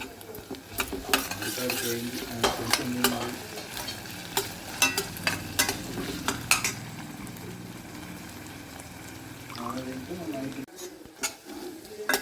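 Onion, green chili and ginger-garlic paste, with coriander and fenugreek leaves, sizzle in a pan while being stirred; a utensil scrapes and clinks against the pan in bursts over constant frying.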